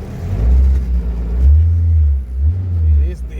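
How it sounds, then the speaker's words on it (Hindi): A Maruti Gypsy stuck in a pit, its engine revved in two long low surges with rough rumbling, loud and close, while the vehicle fails to move forward. "रेस दे रहे हैं, आगे बढ़ ही नहीं रही यार"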